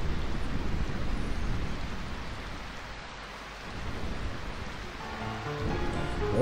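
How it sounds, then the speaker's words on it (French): Steady rain in the Final Fantasy IX video game, a dense continuous hiss with rumbling low weight like a storm, holding at moderate level throughout; faint musical tones creep in near the end. "Cette pluie n'est-elle pas fantastique?"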